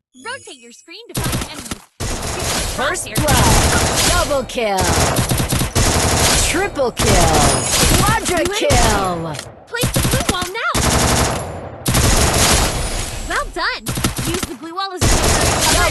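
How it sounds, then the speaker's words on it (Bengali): Rapid automatic gunfire from the Free Fire battle game, loud bursts of shots in long runs broken by short gaps, with game sound effects layered between the volleys. "এগুলো সবগুলোকে আমরা হেডশট মারি"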